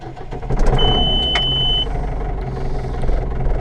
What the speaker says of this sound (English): let's give her a bit of rev on the foot throttle and see what happens